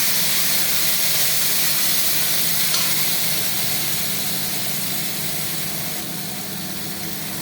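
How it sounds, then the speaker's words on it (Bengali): Green peas fry in a hot pan for a potato curry, a loud, steady sizzling hiss that holds unbroken throughout, close by and with no talking. "তো মটরশুঁটিটাও একটু ভেজে নিতে লাগবে।"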